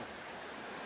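Floodwater from a river swollen after a hurricane rushes as a steady, broad, unbroken roar in Trelawny, Jamaica, where the torrent washed out a road. The sound is faint and continuous, with no voices.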